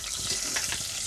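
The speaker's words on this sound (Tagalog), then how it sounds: "Lagay na ako ng bawang tsaka lalagay ko na rin ang sibuyas" Garlic and onion fry in a pan for pork humba, a dense close hiss of sizzling oil filling the short moment, steady and bright with faint lower bubbling underneath.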